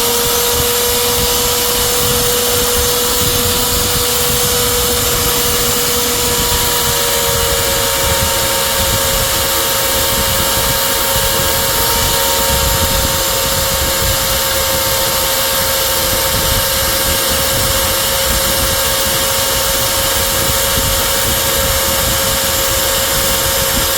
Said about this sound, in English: it will drill now the rest of this hole without any issues